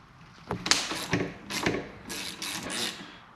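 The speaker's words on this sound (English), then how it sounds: "We're just going to unscrew this." A 17 mm nut being unscrewed from the damper rod of a KYB fork on a 2022 Beta motorcycle, with the fork held in a vise: several close, short clicking and ratcheting bursts follow one another over a few seconds.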